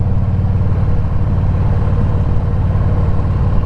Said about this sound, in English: The engine and transmission are 22 years old, but they sound great.